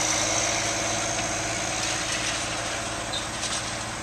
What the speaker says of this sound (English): Here's the versatile 2375 4-wheel drive tractor. It's got the good M11 engine on it